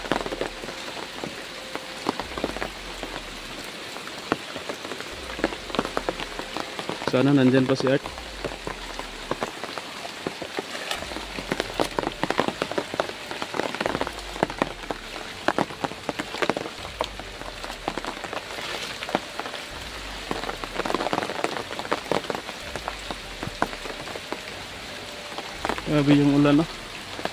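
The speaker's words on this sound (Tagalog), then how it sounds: "Grabe yung ulan, no?" Heavy rain pours steadily onto surfaces, a dense continuous hiss with drops spattering, while a person speaks briefly over it.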